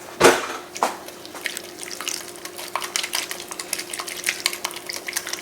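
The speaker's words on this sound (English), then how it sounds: "Let me break it up a little bit more using the whisk" Whisk stirring softened butter into wet ingredients for vegan zucchini bread, a dense run of quick scraping, clicking strokes against the bowl after a couple of louder knocks at the start, close and steady throughout.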